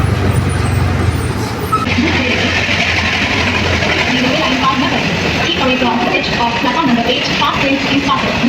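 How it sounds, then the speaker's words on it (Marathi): Jan Shatabdi express 12051 from Chhatrapati Shivaji Maharaj Terminus pulls into platform 7 at Thane station, a steady loud rolling rumble filling the whole stretch while people talk nearby on the busy platform. "प्लॅटफॉर्म क्रमांक 7 वर आलेली गाडी 12051 डाऊन छत्रपती शिवाजी महाराज टर्मिनल मधला जनशताब्दी"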